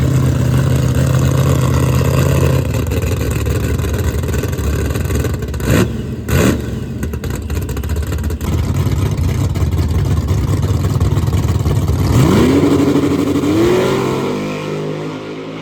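Ford Mustang drag cars at the strip, loud continuous engine roar close by with a rising rev toward the end.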